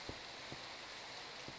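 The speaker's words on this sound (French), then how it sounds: "Ok, la pluie à la limite me dérange pas." Rain in the survival game Forever Stranded Lost Souls: a faint, steady hiss of falling rain with a few soft, dull low thumps, and no voices.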